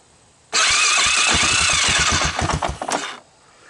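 A cold Honda ATC250ES Big Red ATV engine cranks and catches, running loud and close for about two and a half seconds, its rough, uneven firing pulses sputtering and surging before it dies out.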